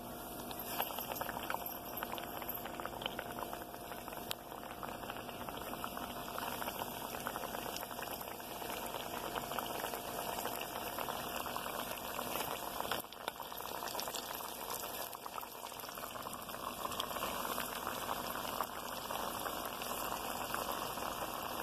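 Salmon patties, or fish cakes, fry in a hot cast iron skillet, giving a steady, close hiss of sizzling oil that runs unbroken throughout with no talking.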